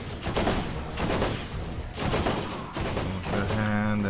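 Rapid gunfire from a turret during a boss fight in the video game Borderlands Remastered, loud and sustained in dense bursts. Game music and effects are layered over it, and a tonal sweep comes in toward the end.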